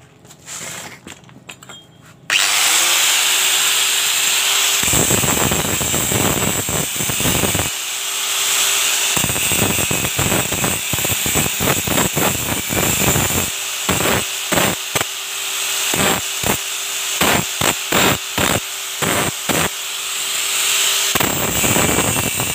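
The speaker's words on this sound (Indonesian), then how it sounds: "ini digerinda dulu ya" An angle grinder grinding rust off a metal part for a homemade tubeless tire press, a loud sustained high-pitched shriek broken by repeated short stops and restarts, heard up close.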